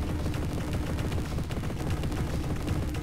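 Jazz Jackrabbit on PC: retro game gunshots fire in a steady, continuous stream of quick repeated blasts, loud and unbroken throughout.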